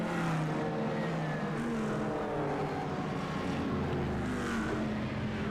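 Race cars on the Road America circuit in a sim racing game roar at the start. A dense, continuous wall of engine drone holds rising harmonic whines from several cars, with no voice over it.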